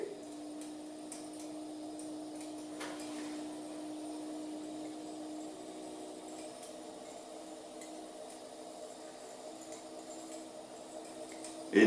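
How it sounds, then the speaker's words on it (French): A bench grinder spins steadily to twist coil wire for staggered fused Clapton coils, producing a continuous close whirring hum with a steady tone and no talk. "je me tiens un peu vers le touret pour bien serrer"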